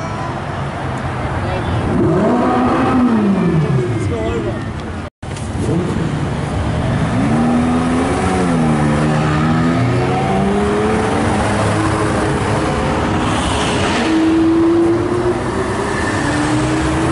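Supercar engines revving hard at an Italian car meet in Horsham, with loud rising and falling revs over steady crowd chatter and a din of other cars nearby.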